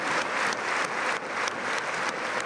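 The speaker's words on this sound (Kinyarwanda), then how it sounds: "Reka tuyihe amashyi." A crowd at an Anglican church gathering in Kigali claps together in a close, fairly loud burst of applause, the claps falling into a rough rhythmic pulse with no talking over them.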